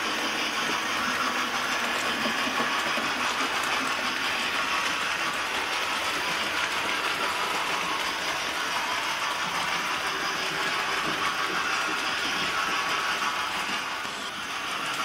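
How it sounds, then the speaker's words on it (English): A4 steam locomotives hauling a passenger train through a village past an engine maintenance yard, a steady, continuous rumble and mechanical clatter that holds at an even level for the whole stretch with no voices. "I like this shot where the locomotives go through the village and the engine maintenance yard."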